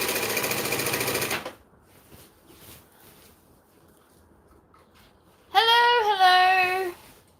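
A sewing machine stitches shade sail fabric in a loud, steady run that stops abruptly. A quiet pause follows, then a voice is heard at the end.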